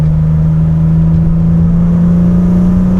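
Close, loud, steady engine drone from a BMW E36 M3 fitted with Supersprint manifolds and exhaust, held at a constant pitch throughout like a sustained dyno run.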